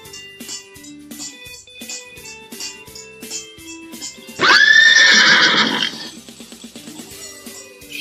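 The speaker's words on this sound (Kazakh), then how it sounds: "Жылқы." A horse gives one loud, drawn-out whinny lasting over a second, standing out clearly above soft rhythmic music with a plucked melody and light percussion.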